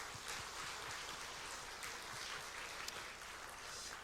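A church congregation at a Korean Sunday afternoon service gives soft, steady applause, a faint and distant patter of many hands clapping throughout without any voices.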